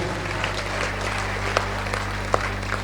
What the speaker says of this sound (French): acclame encore très fort pour le Seigneur Jésus